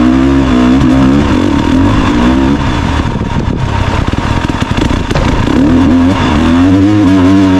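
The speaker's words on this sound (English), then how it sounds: "a high-speed dirt bike racing through a rocky canyon" AI-generated dirt bike tearing through a rocky canyon over rough terrain, its loud engine revving and wailing continuously up and down in pitch, close and alone throughout.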